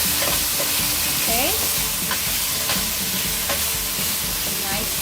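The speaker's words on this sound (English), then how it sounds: "I'll need my red kidney beans. That's the first thing I'll put in here. And I'll try to get it to cook up a little bit." Red kidney beans sizzle and cook in a pot while being stirred, a loud continuous frying hiss with scraping spoon strokes and small squeaks, and a brief word spoken over it.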